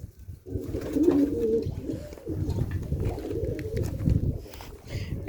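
Pigeons coo loudly and close by, throaty rolling calls repeating back to back with fluttery rustling in between.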